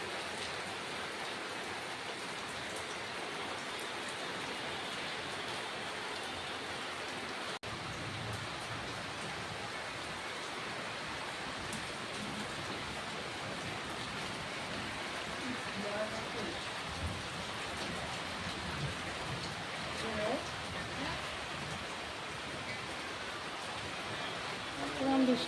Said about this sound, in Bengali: বাইরে এখনো বৃষ্টি হচ্ছে